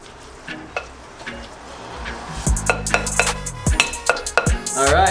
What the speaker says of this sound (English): Go ahead and mix that up